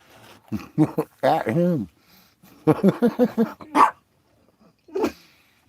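A dog barks in several quick bursts, pausing between volleys, with a final bark after a short gap; a person speaks briefly.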